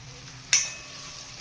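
Spices, kasuri methi and coriander fry in a pan, giving a low sizzle broken by a sharp scrape or clatter and a second brief one a moment later, close up, with no speech.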